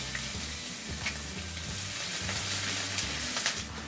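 Onions hit hot oil with mustard seeds in a pan for a cauliflower kuzhambu, giving a continuous bright sizzle with small pops and crackles scattered through it, close and steady.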